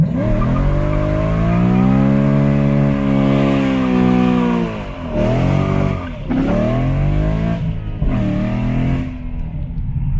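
A car on bent BBS wheels does a burnout, the engine revving hard in long rising sweeps while the tires squeal and screech, loud and close, with several short breaks between pulls.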